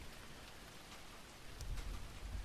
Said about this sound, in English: It's rain.